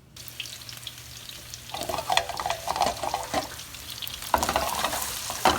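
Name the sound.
meatballs frying in an oiled pan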